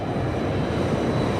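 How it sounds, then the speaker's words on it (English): A descending airplane's steady broadband engine roar, a continuous low rumble filling the whole stretch at an even level with no talking. "As the plane descends"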